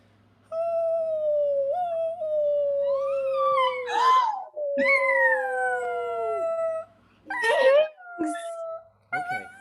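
A Chihuahua mix dog lets out long, rising and falling howls, close and loud, with breaks between bursts, while people talk and react over it.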